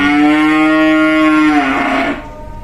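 A Belgian Blue calf lets out one long, loud moo close by, holding a steady pitch before it drops and tails off into quiet farm background.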